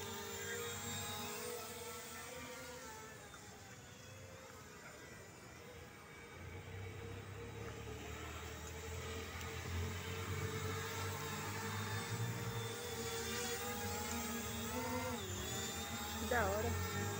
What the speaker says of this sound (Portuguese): Vamos ativar os motores aqui agora e vamos dar um rolê.